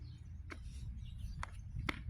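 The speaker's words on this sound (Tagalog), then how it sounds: "Ay, may ibon!" A bird calls outdoors in three short, sharp chirps spaced apart, fairly faint over a low steady background rumble.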